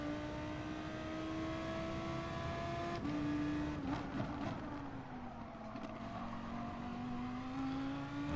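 Audi race car engine in Gran Turismo Sport, a sustained tonal drone that shifts pitch as the car changes gear around the midpoint, then climbs again under acceleration, fairly loud and steady with no talk.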